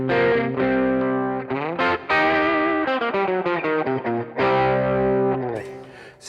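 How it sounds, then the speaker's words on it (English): Electric guitar played through a Keeley Blues Disorder pedal on its blues breaker setting, controls at noon with a bit more gain, giving mildly overdriven sustained chords and single notes ringing out loudly and alone. "So here's it in the BB setting, which is the blues breaker setting, all controls at 12,"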